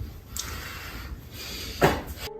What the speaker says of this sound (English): there's a loud bang, and the room door suddenly opens